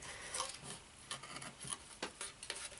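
Gouge carving wood on a wood spirit figure, cutting valleys in the hair: quiet scraping and rasping cuts come in short irregular strokes, close and soft, with no talking.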